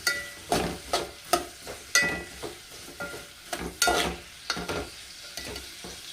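Taro root curry stirred in a pan, with repeated scraping strokes at an irregular rhythm over a low sizzle, close and fairly loud.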